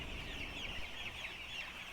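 Chickens in a farm coop in Jamaica cluck softly and continuously at a distance, a low steady flock murmur with no voices.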